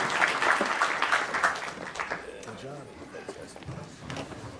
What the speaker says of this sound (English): round of applause for our awesome panelists